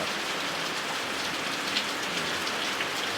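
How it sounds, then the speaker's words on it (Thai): Steady, dense rainfall in an MMO RPG video game, a constant even hiss of drops with no voices and no breaks. "นี่ก็คือไม่ได้เห็นฝนตกมาประมาณ 11 ปีแล้วนะครับ"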